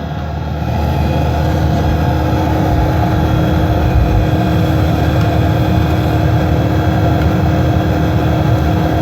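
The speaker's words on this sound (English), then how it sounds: "it's kind of popping like a little cracking sound, just like when an engine is just starting to boil" A ProHeat diesel heater running and burning in a bus conversion, giving a steady loud low drone with a dense rumbling texture throughout, no speech.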